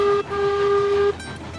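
A train in the railway game Railroads Online sounds a steady tonal horn or whistle for about a second near an oil platform, then a brief shorter toot follows over a low rumbling background.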